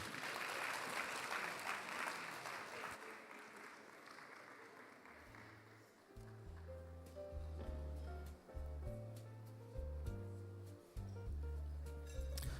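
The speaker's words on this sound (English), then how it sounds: "Let's give him a round of applause as Asakamuga." Audience applause at a safety indaba event rises as a dense, steady clatter of clapping for about six seconds, then gives way to tonal music that carries on quietly.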